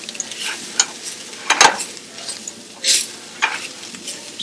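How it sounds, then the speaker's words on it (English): A spoon stirs vegan food in a sizzling pan, with soft scraping strokes and clinks over a steady faint fry. Brief louder bursts of sizzle rise as the food is moved around. "just gonna stir it in."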